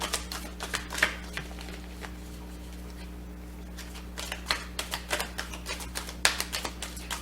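Tarot cards being shuffled and pulled, with quick close clusters of light papery riffles and taps that break off for a short quiet stretch in the middle, soft and with no talking.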